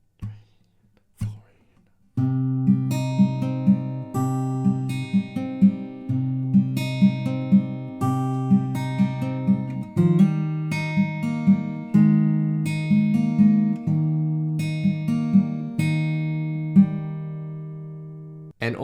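Fingerpicked acoustic guitar plays the intro to a song, steady plucked arpeggios with a clear bass line, close and alone at moderate loudness after a couple of soft count-in taps.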